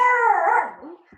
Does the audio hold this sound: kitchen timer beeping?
no